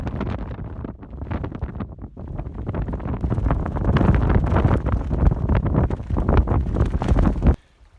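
Steady, heavy wind gusting through trees in the Goat Rocks mountains, roaring and rumbling against the microphone, building in strength and then cutting off abruptly near the end.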